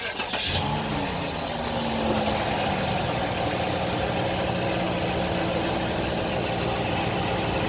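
A cold 2003 Cadillac DeVille engine cranks and catches near the start, then settles into a loud, steady, close-up idle that runs to the end.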